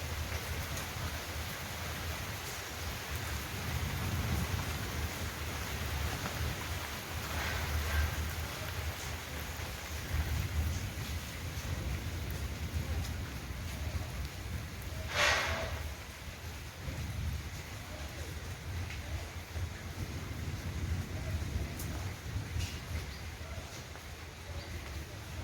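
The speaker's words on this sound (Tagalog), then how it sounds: "It's raining." Ice rain falls steadily outdoors as a soft, continuous patter with a few sharper rattles and ticks scattered through it.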